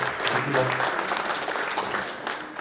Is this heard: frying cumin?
no